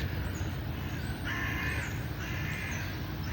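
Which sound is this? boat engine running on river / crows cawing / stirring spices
crows cawing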